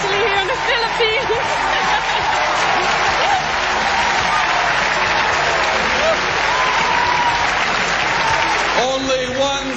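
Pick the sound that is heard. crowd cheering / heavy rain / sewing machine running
crowd cheering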